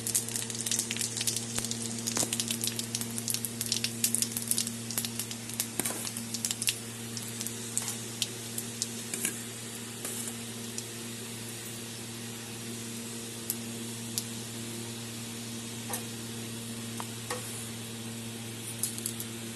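Dried red chillies and fennel seeds sizzle in hot oil for a sweet-and-sour raw mango chutney, a steady crackling hiss with scattered pops over a low hum, with no talking.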